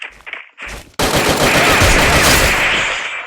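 A brief scuffle of sound, then sustained rapid gunfire rattles loudly and continuously, a dense automatic burst in the game Free Fire.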